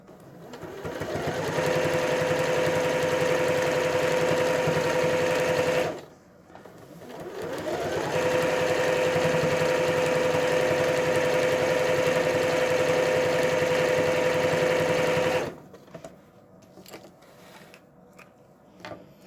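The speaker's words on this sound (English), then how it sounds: "I'm going to sew from where I stopped stitching to where I started stitching" A sewing machine stitches quilt binding in two long steady runs, each motor whir holding an even pitch with a short pause between them, then tapering off into quieter handling noise. Close and loud throughout.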